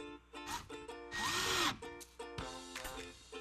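A power drill drives screws through a pipe flange into a wooden board, with short bursts of whirring motor that rise in pitch, one longer run in the middle, and brief stops between them, close and fairly quiet.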